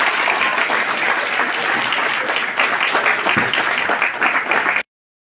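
Loud, dense applause from a crowd at a large communal feast and eating contest held before a police recruits' passing-out parade. The clapping is continuous and close, then stops abruptly into silence.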